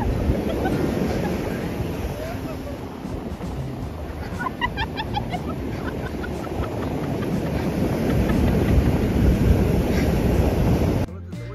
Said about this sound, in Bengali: ফাইনালি অনেকটা হাঁটার পর আমরা চলে এসেছি সি বিচে।